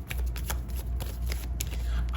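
A deck of tarot cards shuffled by hand, a quick close riffle of papery flutters and soft slaps in short bursts, with no voices.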